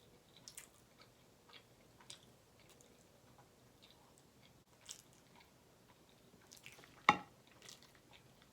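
Someone eats butter chicken and garlic naan with quiet, sporadic chewing and soft mouth clicks, plus one sharper louder bite or clack near the end.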